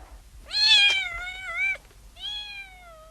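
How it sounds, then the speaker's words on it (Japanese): A cat meows clearly and close by: one long, wavering meow and then a shorter second one after a brief pause, with faint low background noise. "猫がいます。"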